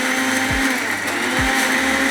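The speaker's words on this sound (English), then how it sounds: "So Dexter, blend that up." A kitchen blender grinds cinnamon, mint and coriander for green masala rice, a loud, steady motor whine running throughout with two brief low thumps partway through.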